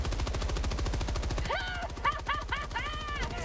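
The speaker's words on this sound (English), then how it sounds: "I was kind of just dumping a mag out because I'm like that." Rapid automatic gunfire from a magazine being emptied in Helldivers 2, a fast steady stream of shots running the whole time while a voice talks over the second half.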